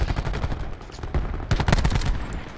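Gunfire in a first-person video game shooter crackles in quick, loud bursts of rapid shots up close, with a brief lull between volleys.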